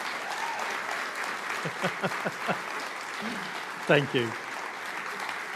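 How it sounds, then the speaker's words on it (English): Theatre audience applause at a season launch night, a steady wash of clapping running throughout, with a voice speaking briefly over it near the end. "another round of applause"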